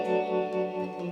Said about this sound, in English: So now I'm using a little bit of reverb, and I'm using this really cool vibe sound, right? Like an old Univibe sound.